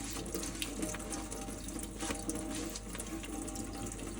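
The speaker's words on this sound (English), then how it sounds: "that looks cleaner than it did when we first just ran it under water" A Chalk Couture silkscreen transfer is rinsed under a running faucet to wash off chalk paste, a steady close splashing stream of water over a sink for the whole stretch, with no voices.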